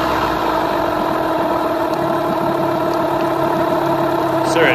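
A Yamaha 9.9/15hp outboard motor runs steadily and close, with a constant engine hum and a slight rise in pitch near the end as it is revved during carburettor tuning.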